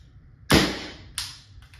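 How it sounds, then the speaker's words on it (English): A Valken M17 CO2 less-lethal pistol dry-fires on an empty magazine, giving one sharp close snap followed by a fainter second click a moment later, against a quiet low hum. "that was the last, that was a dry fire"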